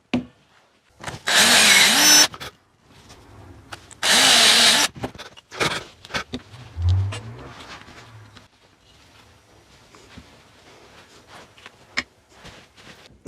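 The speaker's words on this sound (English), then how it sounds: "let's drill another couple of holes" A power drill whirs loudly through wood in two bursts of about a second each, followed by quieter handling, knocks and shuffling.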